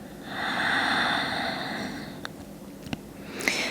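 A long, soft breath is let out during a slow yoga flow, rising and then fading, and a few faint clicks and rustles follow near its end.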